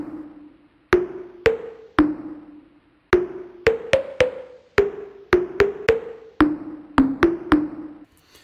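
A melody plucked on thyme leaves, a sequence of short, sharp, pitched plucks with quick decays, spaced in a melodic rhythm, close and isolated with no talking.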